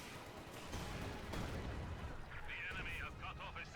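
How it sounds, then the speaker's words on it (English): A mine detonates in the WWII strategy game Company of Heroes 2, a muffled booming blast heard amid the clatter of battle, with an ongoing roar of gunfire and artillery and a faint high tone near the end. "Mine's going off there."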